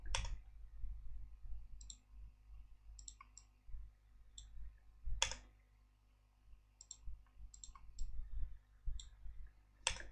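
Computer mouse clicks in SmartPLS software, sharp isolated clicks, some single and some in quick pairs, spaced irregularly over a low steady hum, close and moderately loud with no talking.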